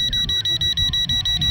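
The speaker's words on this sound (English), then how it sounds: "It does have an annoying beep though" Rapid repeated high-pitched beeps pulse steadily from an LYZRC L200 Pro Max budget GPS 4K camera drone, about a dozen short chirps in quick rhythm over a low hum.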